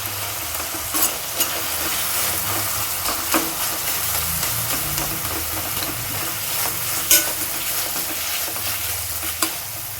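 Tomatoes fry in a pan with salt for a mint rice dish, giving a steady close sizzle broken by occasional stirring clicks and scrapes, with no talking.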